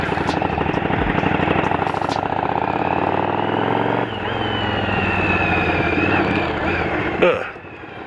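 A motorcycle engine drones steadily and close while riding over gravel and potholes on a food delivery run, its tone shifting midway as the bike rattles over the rough surface.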